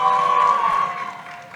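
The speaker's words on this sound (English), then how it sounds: "Let's give them one more round of applause" A crowd at an Indian cultural society's annual stage event cheers and applauds after a children's performance, loud and sustained, with a high whistle or shout riding over the clapping before the noise gradually fades.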